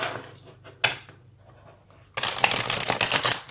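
Tarot cards being shuffled: a couple of quick riffling bursts, then a long, loud, dense shuffle close by in the final second and a half, with no talking.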